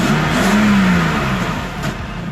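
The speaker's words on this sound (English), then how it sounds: "S52 M3 engine" A BMW M3 with an S52 engine, fitted with a quick shifter, revs loudly nearby, a steady throaty engine roar that rises briefly, then eases off slightly toward the end.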